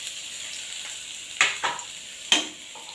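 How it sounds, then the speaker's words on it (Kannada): Finely chopped onion fries in oil with a soft background sizzle broken by a few sharp scraping stirs, each a short loud rasp, and no talking. "ಈರುಳ್ಳಿ ಸ್ವಲ್ಪ ಈ ಥರ ಹುರ್ಕೋಬೇಕು."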